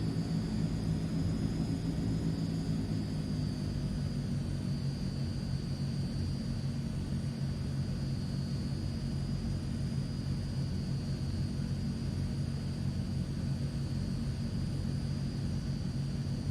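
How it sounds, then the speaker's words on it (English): Transall C160 twin turboprop engines spooling at full takeoff throttle in a flight simulator, a loud, steady low drone with a thin high whine, continuous and close throughout. "So, full throttle for the takeoff"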